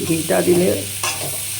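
Vegetarian papaya curry is stirred and sautéed in a pan, giving a loud, close sizzle with brisk scraping strokes of the spoon over a brief moment.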